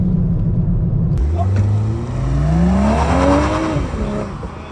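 A BMW G80 M3 accelerates on the factory race track at Spartanburg, heard from inside. The engine note climbs loud and close through the revs, drops briefly at a gear change, then rises again.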